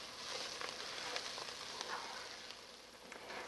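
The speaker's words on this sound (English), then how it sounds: "be sure to stir your sauteing rice and vegetables every once in a while" Rice and vegetables sauteing in a pan give a steady, soft sizzle with small crackles throughout, close and fairly quiet, with no voices.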